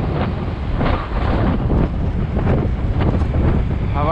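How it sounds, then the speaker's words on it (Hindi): Strong wind buffets a microphone outdoors, a loud, continuous low rumble with rushing gusts that rise and fall, close and dominant, with no voice over it. "हवा चल रही है बहुत तेज़, शायद मेरी आवाज़ आपको डिस्टर्ब लगे"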